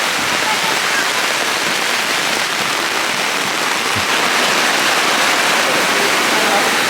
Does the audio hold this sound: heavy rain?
yes